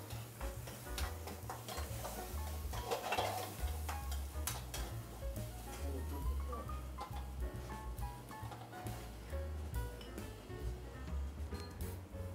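Celery and garlic sauce cooking in a pan in an Italian restaurant kitchen, with a steady low sizzle and occasional stirring scrapes and clicks throughout, no voices.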